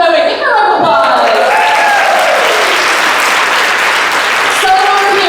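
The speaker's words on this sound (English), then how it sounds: "Give her a round of applause." Conference audience applauding, a loud, dense burst of clapping filling the room for about five seconds, with a voice speaking over it near the start.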